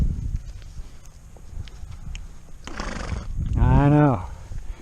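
A horse snorts, then lets out a loud, shaky whinny close by, with soft hoof shuffles and light rustling around it.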